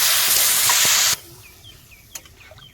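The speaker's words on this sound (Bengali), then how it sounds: "কষা হয়ে গেছে এবার মা জল দিয়ে দিচ্ছে" Water poured onto frying prawn masala in a pan sets off a loud, hissing rush of steam for about a second, then it drops abruptly to a quiet simmer with faint bird chirps nearby.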